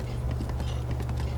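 Horse hooves clip-clopping at a steady, galloping rhythm in Breath of the Wild, a continuous run of close hoofbeats layered over a low game hum, with no talking.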